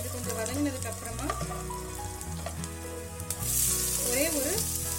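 Garlic sautés in a pan for dal khichdi, giving a steady, lively sizzle that runs throughout beneath background music.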